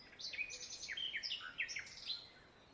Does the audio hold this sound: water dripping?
no